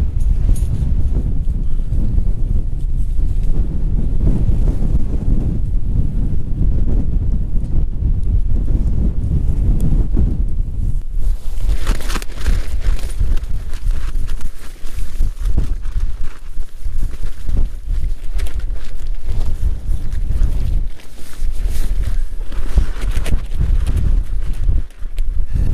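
Strong gusty wind buffets the microphone throughout while a Marmot Haldor 2-person four-season tent is pitched outdoors, a loud continuous low roar that shifts and flutters with the gusts.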